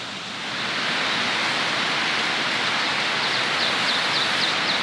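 A waterfall at a campsite roars as a dense, steady rushing wash, loud and close, swelling in over the first second and then holding constant with no voices.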